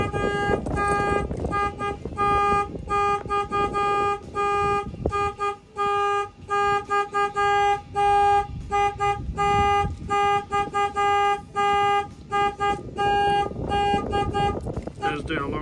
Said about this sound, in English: You're gonna see that the alarm's gonna go off.